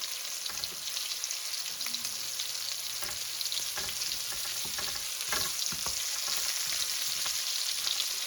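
Breaded green tomato slices fry in a hot pan with a steady, loud sizzle and crackle throughout, scattered pops and small stirring clicks riding over the constant hiss.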